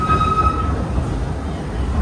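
The Disneyland Railroad train rolls steadily along its rails around the park, a continuous close rumble of wheels and carriages with a faint high squeal fading early, no one talking.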